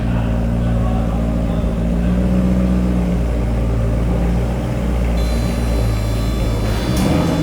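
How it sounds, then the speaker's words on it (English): A BMW M3 with a V8 engine runs and revs, a loud steady low rumble filling the whole stretch with a slight rise in the middle and no talking. "enjoy some V8 sounds once again"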